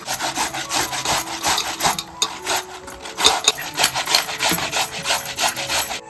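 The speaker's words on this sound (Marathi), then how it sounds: "आता ना आपल्याला किसणीच्या साईने किसून घ्यायचं आहे." A peeled cucumber is grated on a hand grater in a steady run of scratchy, rasping strokes, close and moderately loud, with no talking.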